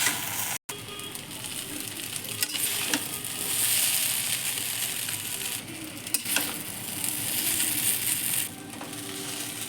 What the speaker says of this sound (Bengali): Soya sauce, chilli sauce, tomato sauce. এইবারে আমি এগুলোকে ভালো করে ভেজে নেব।